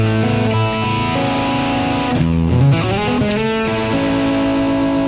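An electric guitar through its piezo pickup plays sustained, buzzy chords through heavy distortion, with a brief strummed flourish in the middle and no voices.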